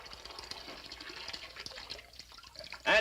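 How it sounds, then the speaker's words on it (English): Water siphons out of a tub through a filled garden hose in an old cartoon, a faint, steady trickle and gurgle with light dripping, ending in a brief louder splash. "That's called siphoning, Timmy."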